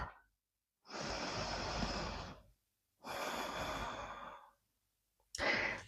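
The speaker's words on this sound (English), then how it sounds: "Take a deep breath." Slow, deep breaths during a gentle yoga flow, two long audible exhales or sighs near the microphone separated by silence, followed by the start of a third.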